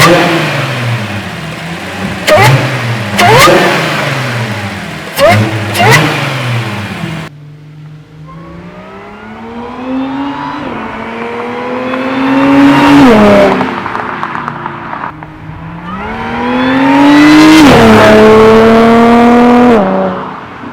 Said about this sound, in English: we can finally hear that supercharger whine